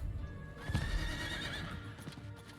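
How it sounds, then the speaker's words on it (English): Summoned horse in the Diablo IV video game, a single loud whinnying neigh with a few clip-clop hoof taps, standing alone without talk. "you can summon the horse like immediately in town"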